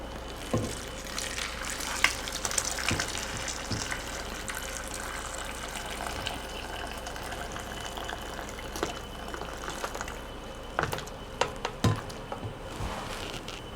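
Hot water from cooked chicken and dumplings drains through a strainer into a big bowl, making a soft, steady trickling patter with a few small clinks and splashes.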